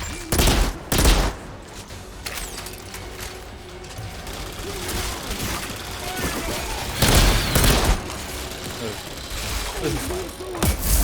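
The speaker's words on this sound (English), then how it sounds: "It's a burst rifle!" Burst rifle fire in the video game Outriders: loud clusters of sharp shots at the start and again around the middle, with gunfire and combat noise filling the gaps under occasional speech.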